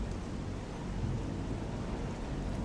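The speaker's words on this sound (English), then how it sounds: "It's raining through the roof of the mine." Steady rain pours through the roof of a mine in the Gothic II video game, a dense, even rushing hiss with a low rumble that holds constant throughout with no voices.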